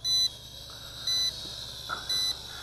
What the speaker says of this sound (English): until we hear that beeping.